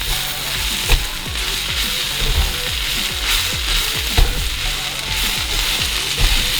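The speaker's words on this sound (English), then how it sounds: "let's go ahead and add some flour, and let's mix that in" Flour mixed into softened onions in a pan, with a continuous sizzle under repeated scraping and clicking strokes of the spoon against the pan, fairly loud and close, with no talking.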